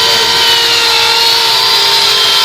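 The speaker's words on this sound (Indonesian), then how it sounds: "Jadi kayu itu dibor gini secara manual." A drill bores steadily into nagasari wood for handicraft pieces, making a loud, continuous high whine that holds unbroken throughout.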